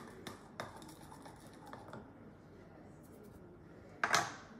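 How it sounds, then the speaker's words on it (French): Flour and baking powder are stirred together in a bowl, with a few light utensil taps against the bowl and one louder scrape near the end, quiet and close. "Je mélange un peu."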